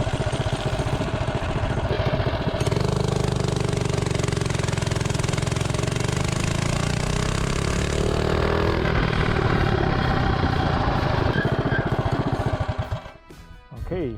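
A Ghost mini bike's small engine runs on VP 110 race gas, revving up loud and rattly as it accelerates steadily for about twelve seconds before cutting off abruptly.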